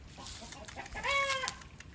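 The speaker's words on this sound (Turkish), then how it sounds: "çok fena bir horoz olacak bu" A rooster gives a short, harmonic cluck-like call at close range over a quiet outdoor background on a hot day.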